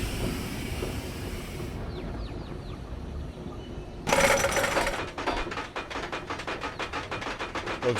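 In the Planet Coaster game, a roller coaster lift chain clatters with rapid, evenly spaced mechanical clicks that start partway through and continue rhythmically to the end, over ambient park noise and a few chirping sounds.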